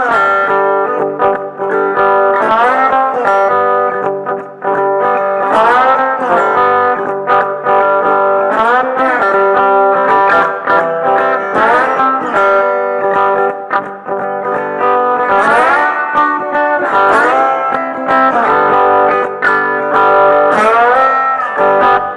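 Slide guitar played with an Australian gidgee hardwood slide through a pushed clean amp with slight grit, loud sustained gliding notes and chords repeating a rock phrase throughout with no talking.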